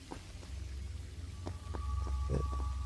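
Rain falls in Prince of Persia: The Sands of Time, a steady soft patter over low ambient rumble with scattered sharper drops, growing slightly louder toward the end, with no talking.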